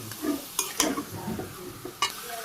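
Meat being stirred in a pan during a Bangladeshi home curry, with short bursts of scraping and sizzling at close range among quieter clinks of utensils, and no talking.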